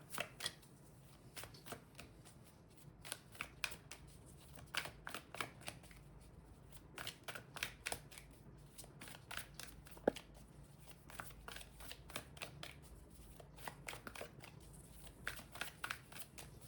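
Tarot cards shuffled by hand, quiet repeated riffling bursts in an uneven rhythm with short pauses, close and soft throughout.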